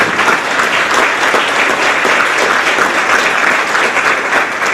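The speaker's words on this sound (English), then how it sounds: "So, yes, give them a round of applause." An audience at a grades 4-6 school awards ceremony applauds, giving loud, dense, continuous clapping that fills the whole stretch at a steady level.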